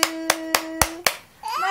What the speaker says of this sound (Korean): 박수할까